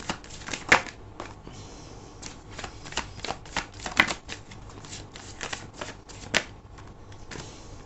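Tarot cards are shuffled and riffled by hand for a reading, producing a brisk run of crisp papery flicks with a few sharper snaps, close and clear with no talking.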